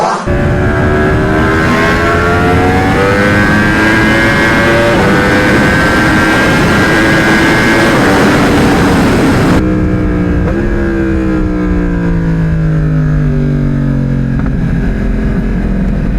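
Yamaha R1 sport motorcycle with crash damage revs hard while being ridden in city traffic, a loud continuous engine roar with rising pitch sweeps through gear changes and accelerations, close and dominant.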